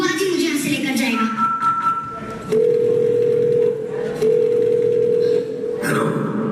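Telephone dial tone while a call is being placed, steady tones starting and stopping in short segments, with brief handling noises between them.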